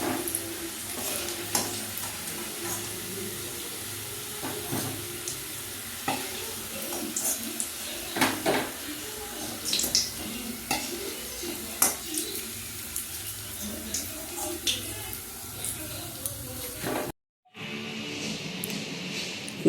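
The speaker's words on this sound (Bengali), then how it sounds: "এইভাবে সব সিঙ্গারাগুলি ভেজে নেব" Homemade samosas filled with new potato, cauliflower, peas and peanuts fry in a wok of hot oil, a loud continuous bubbling sizzle with frequent clatters of a utensil, cutting out abruptly near the end.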